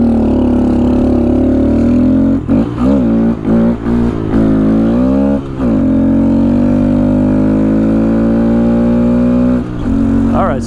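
Honda Grom motorcycle on Shinko Mobber 505 tires riding a rough country road, its engine note loud and close, rising and falling through several throttle changes and gear shifts before settling into a steady cruise.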